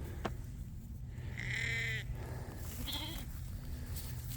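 A St. Croix sheep ewe bleats twice, a longer wavering call and then a shorter one, close by over a low background hum, with a brief voice nearby.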